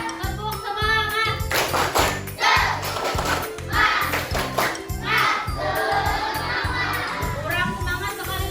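Schoolchildren in an Indonesian elementary coding class perform a spirit clap, a patterned chant-and-clap routine with bursts of claps in a set rhythm, their voices chanting along loudly and close.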